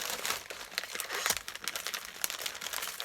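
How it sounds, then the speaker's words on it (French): Gift paper being torn and crumpled as a package is unwrapped, a quiet, close run of irregular crinkling and ripping bursts. "Alors c'est emballé dans du papier cadeau."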